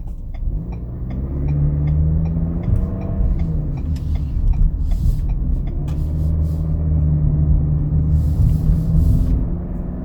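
A 2020 Ford Explorer XLT SUV cruising on a highway, with a steady low engine and road rumble inside the cabin, droning continuously with faint ticking and no talk.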